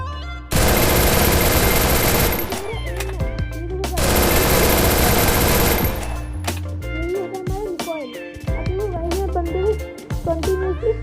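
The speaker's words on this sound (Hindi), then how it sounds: "कंटिन्यूसली फायर कर रहे हैं, रिकॉल हो गया" Continuous automatic fire from an MP40 submachine gun in the mobile game Free Fire, two long loud sustained bursts separated by a short pause, followed by quieter game sounds and someone talking.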